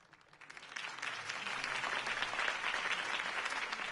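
Crowd applause swells after Harvey Dent's campaign speech in Batman: The Telltale Series, starting softly and quickly building into dense, steady clapping that holds at full strength to the end.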